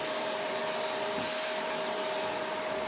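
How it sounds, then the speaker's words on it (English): A household vacuum cleaner runs continuously with a steady whine and airy roar, constant in level and alone throughout. "So she said, get me this vacuum here."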